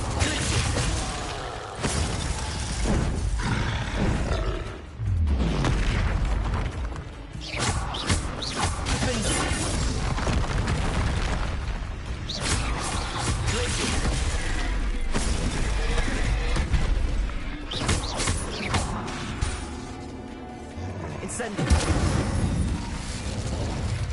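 Incendio fire spell cast in the Hogwarts Legacy video game, heard as a steady, loud wash of crackling, bursting combat effects with crashes and booms running throughout, mixed with game music and other battle noise.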